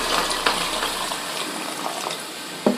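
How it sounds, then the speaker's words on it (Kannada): Hot water splashes and gushes into soaked rice for a Gowda-style chicken biryani, a continuous nearby pour with a few sharper splashes along the way. "ನೆನಪಿರ್ಲಿ, ಬಿಸಿ ನೀರು ಹಾಕ್ತಾ ಇರೋದು."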